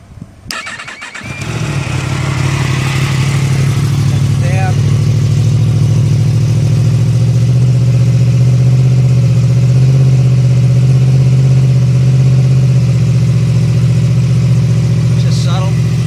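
A 2016 Yamaha MT-10 motorcycle fires up after a short crank, then settles into a steady, loud, deep idle with its exhaust droning close by for the rest of the clip.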